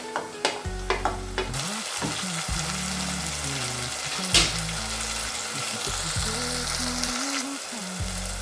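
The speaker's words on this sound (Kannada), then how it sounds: "ಸೊ ಇವಾಗ ನಾನು ನೆಕ್ಸ್ಟು ಟೊಮೆಟೊ ಚಿಕ್ಕ ಚಿಕ್ಕದಾಗಿ ಕಟ್ ಮಾಡಿ ಇಟ್ಕೊಂಡಿದ್ದೆಲ್ಲ ಅದನ್ನ ಹಾಕ್ತಾಯಿದ್ದೀನಿ" Chopped tomatoes going into mutton sukka masala frying in a pan: a few quick clinks, then a loud steady sizzle that swells as the tomatoes hit the oil, with a spoon stirring and scraping close by throughout.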